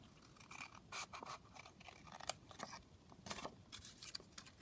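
Scissors cut across an old vintage book page, a series of faint, crisp snips and paper rustles close by in a quiet room.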